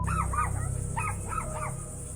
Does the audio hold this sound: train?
no